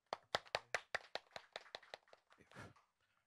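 A small group at a public policy forum claps for a few seconds to welcome a speaker, the individual sharp hand claps distinct and close, thinning out and fading at the end.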